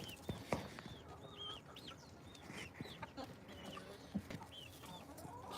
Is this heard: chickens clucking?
yes